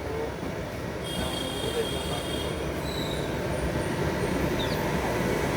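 The Mangaluru Rameshwaram Express rolls along the rails with a steady heavy rumble, and high metallic wheel squeals ring out at intervals, close and loud throughout.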